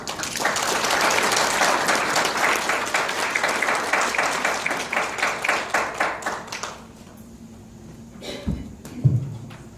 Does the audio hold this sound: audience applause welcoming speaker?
yes